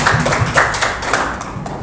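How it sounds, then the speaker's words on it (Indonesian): Audience applause after a school teacher's presentation: a short, steady burst of clapping from a room of people, medium-near and fairly loud, with no talk over it. "Terima kasih banyak Bu Okti tepuk tangannya"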